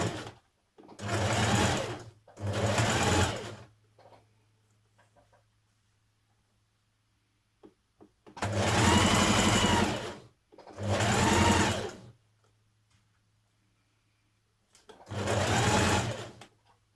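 A sewing machine stitches a dress shoulder seam in five separate bursts of about a second each, loud and close, with quiet gaps and a low motor hum between them.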